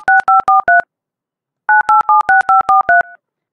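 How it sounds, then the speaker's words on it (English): Telephone touch-tone dialing: a quick burst of four DTMF beeps, a short pause, then a faster run of about eight more tones, crisp, loud and alone. "So we can hear the dialing a number."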